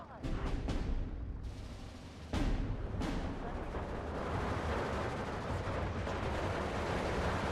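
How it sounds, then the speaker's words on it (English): Gunfire from a Yak 9T fighter in the Steel Division 2 video game: several sharp bursts at the start, then a dense, continuous roar of firing and battle noise. "Bring in a Yak 9T to shoot down the Blenheim."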